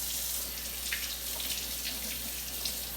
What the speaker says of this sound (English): we're just gonna cook them all up as Shelby washes them